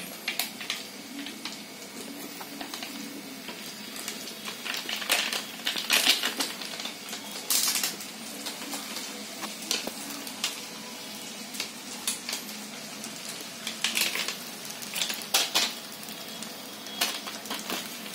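Pasta frying in a pan with masala added, a steady soft sizzle with scattered scraping and clinking of a spoon stirring against the pan.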